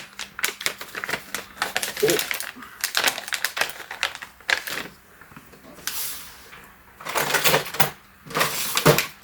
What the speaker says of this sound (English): It has a slit there to tear it, but it didn't want to tear.